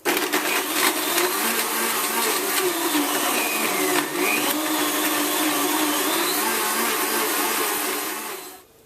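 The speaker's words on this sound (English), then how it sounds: "Blend on high for 40 seconds" A blender whirs loudly on high speed for several seconds blending a smoothie, then winds down and stops. No one speaks.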